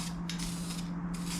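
Aerosol spray paint hisses in short bursts while a light coat goes onto a wheel being refinished, with a steady low hum running underneath and no talking.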